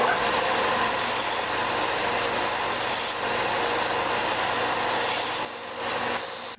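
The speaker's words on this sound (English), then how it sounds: "I'll refine the shape on the belt sander" A belt sander grinds steadily against an aluminum crankbait lip as it is shaped for a deep-diving lure, a loud, continuous rasping whir that dips briefly near the end.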